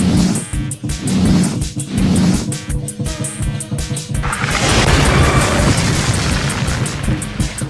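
A loud, sustained whooshing burst with rumbling boom, like a cartoon magic blast, following sharp rhythmic tones.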